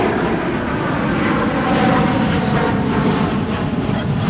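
Airliner taking off at Dallas-Fort Worth International Airport, a steady loud engine roar with broadband rushing noise, sustained and fairly close, no voices.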